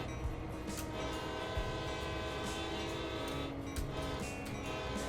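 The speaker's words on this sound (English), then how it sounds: "Let's blow this whistle right here." In a train driving video game, a train whistle sounds as one long, sustained, steady tone that holds for several seconds over a low rumble.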